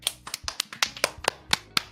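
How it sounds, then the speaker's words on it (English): Roughly ten sharp, evenly spaced hand claps in quick succession, close and fairly loud, from a small group or a single person applauding Coach Mac at a fitness show. "A huge round of applause"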